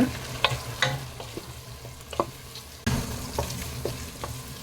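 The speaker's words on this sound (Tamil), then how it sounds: "இதையும் நல்லா வதக்கி விட்டுடலாங்க." A paste of ground mint, coriander and green chili is sautéed with tomatoes in oil for chicken biryani, giving a close, low sizzle under repeated scraping stirs of a spoon against the pan.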